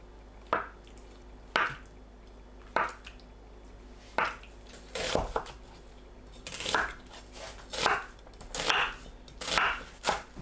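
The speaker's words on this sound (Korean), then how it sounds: "두부, 양파를 한입 크기로 썰어주세요." A knife chopping tofu and onion on a board, single cuts at first, then a quicker run of soft, moist slices, close up with no talking.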